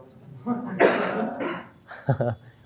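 A person coughs a couple of times indoors, close and fairly loud, followed by a short throat-clearing burst, with speech around it.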